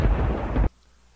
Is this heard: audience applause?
no